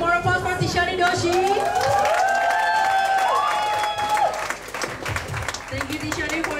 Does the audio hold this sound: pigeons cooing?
no